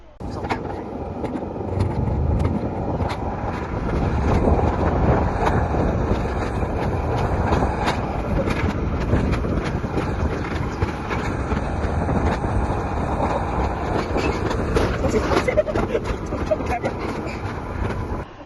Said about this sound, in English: The toboggan ride was awesome.